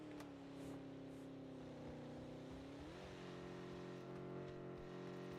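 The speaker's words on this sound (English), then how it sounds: "Sounds like someone who's trying to drive a car with not enough tyres." A car in the video game PUBG driving on damaged tyres, a steady loud engine drone that shifts pitch midway as it changes speed, continuous and close with no talk.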